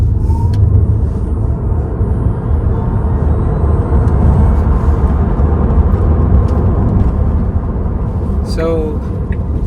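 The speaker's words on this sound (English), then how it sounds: "try an acceleration test" A 2024 Tesla Model 3 electric car accelerates hard, heard from inside as a loud, steady low rumble of road and wind noise with a faint rising whine and no engine note.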